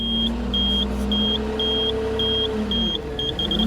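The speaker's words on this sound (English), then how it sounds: "That's the alarm going off with an empty bucket." A Kubota KTH4815-2 loader sounds its alarm with an empty bucket, giving a series of short, evenly spaced high beeps over the loud, steady hum of the idling engine.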